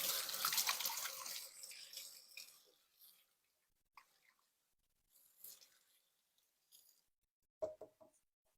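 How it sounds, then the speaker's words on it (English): Tap water runs into a kitchen sink for hand washing while salted brownie cookies are being made, starting as a loud steady gush that fades out, followed by scattered faint splashes and drips. "I'm just going to wash my hands for a second here"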